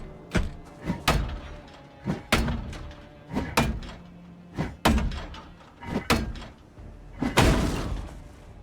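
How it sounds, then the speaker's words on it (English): An axe slams into a door again and again in Project Zomboid, each heavy wooden thunk landing at a steady, unhurried rhythm, loud and close, with nothing else in between. "axes are some of the best tools to get through doors"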